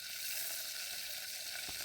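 Garlic hisses and sizzles in hot oil in a pan at a forest campsite, a steady close frying sound with no talk.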